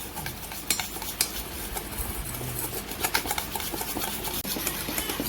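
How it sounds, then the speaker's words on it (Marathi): Curd, jaggery and coffee powder being whisked into a batter in a bowl, a busy rapid clicking and scraping of the whisk that runs steadily and close by with no talk. "आता आपण छान मिक्स करून घेऊया सगळं. याला जवळजवळ 2 ते 3 मिनिटं चांगलं फेटून घ्यायचं."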